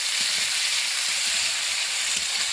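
Tomato dropped into hot mustard oil tempered with bay leaf, cumin and dried red chilli, a dense, loud, steady hiss of sizzling for a couple of seconds.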